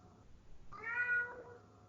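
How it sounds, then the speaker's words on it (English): A pet cat gives a single drawn-out meow, fairly close but quiet, against a near-silent background. "That's my cat."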